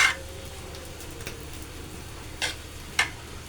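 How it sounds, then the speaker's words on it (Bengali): Rice for pulao is stirred and turned in a hot pot, giving a soft sizzle with a few scraping strokes and light clinks spaced through the clip, fairly quiet and close. "এই যে ভাগ ভাগ করে আপনারা উল্টিয়ে দিবেন চালটাকে। এই যে আমি উল্টিয়ে দিচ্ছি এইভাবে"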